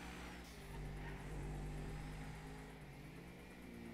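Car engine driving in GTA V Online during a chase mission, a steady mid-range motor drone with a slight rise in revs partway through, continuous and fairly loud with no talk.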